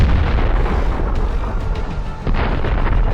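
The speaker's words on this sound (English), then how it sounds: "Powerful explosions send the turret flying several meters into the sky." Heavy explosions tear apart an armored personnel carrier in a war zone, a dense continuous roar of blasts and rumbling debris, loud and distant-sounding with booming peaks, no speech.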